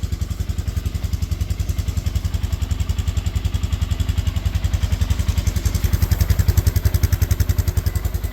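A 2004 Polaris Sportsman 400 ATV engine idles close by after a pull start. Its thumping exhaust pulses come in a fast, even rhythm for the whole stretch, with no talk over it.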